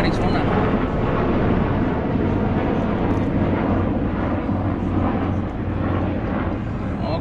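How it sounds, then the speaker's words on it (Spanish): A steady, loud low roar of military helicopter engines fills the whole stretch, a continuous rumbling drone of rotors passing overhead near a military base in Yuma, Arizona, with faint voices underneath. "Andan pasando los helicópteros aquí porque hay una base militar aquí cerca."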